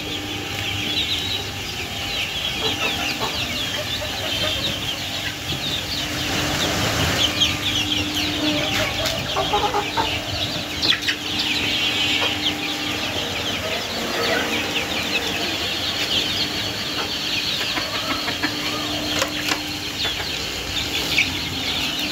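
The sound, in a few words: native chicken chicks clucking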